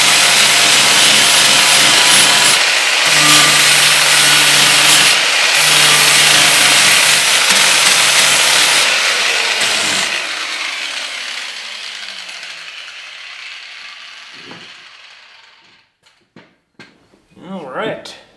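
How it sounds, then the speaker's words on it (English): A power tool grinding paint off a metal bracket on a K24 prototype race car, with a loud, steady abrasive whine and rasp that gradually winds down and fades, followed by a few sharp clicks and knocks. "we're going to have to grind out some of the paint on here on this bracketry piece"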